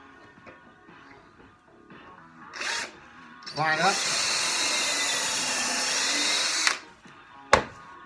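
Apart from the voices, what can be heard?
power drill driving screws into a stool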